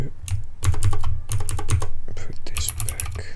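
Typing on a computer keyboard during a coding session: a quick, irregular run of close, crisp key clicks and taps with no talking.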